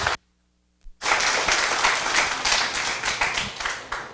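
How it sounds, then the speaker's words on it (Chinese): A lecture audience breaks into warm applause to welcome a speaker at an art-history talk: after a brief hush, a dense, loud wave of clapping starts abruptly and holds steady to the end. "麻烦大家以热烈的掌声欢迎他"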